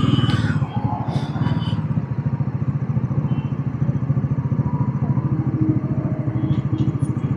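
A Bajaj Pulsar NS 400Z motorcycle engine thrums steadily while being ridden on a test drive, a close, loud, even pulsing drone with wind noise, no talk over it.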